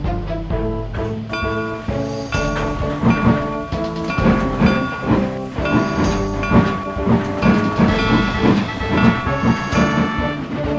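Steam locomotives set off on an excursion, a steady chuffing rumble with rhythmic clanking and whistle-like tones layered over constant hiss, loud and continuous, no voices.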